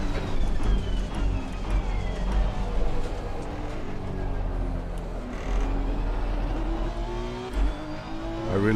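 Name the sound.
Honda NSX race car engine at Laguna Seca, racing video game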